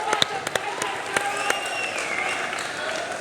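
Applause and cheering sweep through the crowd at a Kumite 1 League fight between Krishna and Suraj, with sharp individual claps popping out over a steady roar of hands and voices.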